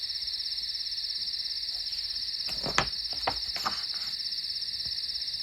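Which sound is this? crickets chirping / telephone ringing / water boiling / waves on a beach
crickets chirping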